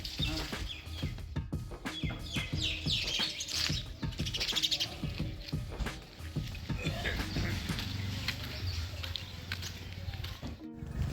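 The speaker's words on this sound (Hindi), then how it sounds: "पक्षी चंचल रहता है, एक जगह पर ज़्यादा देर बैठता नहीं है।" Birds outdoors along a village route chirp and call repeatedly in quick, busy bursts, fairly close and lively, over a steady background of outdoor noise, with no talking.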